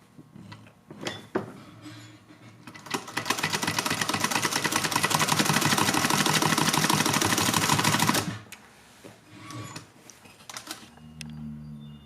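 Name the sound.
sewing machine sewing around a cloth face mask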